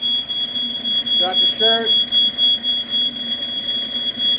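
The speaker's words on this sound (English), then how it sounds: "That smoke alarm works." A smoke alarm goes off during cooking, a loud, steady high-pitched electronic tone sounding without pause, pulsing slightly, while a person speaks briefly underneath.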